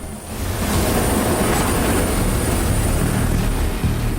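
A medical transport helicopter carrying a patient, its rotor and engine a loud, steady roar that fills the whole stretch without a break, close by, with no one speaking.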